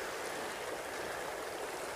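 Water of the Umanod River flows steadily, a close, even rushing and gurgling with no pauses and no voices over it.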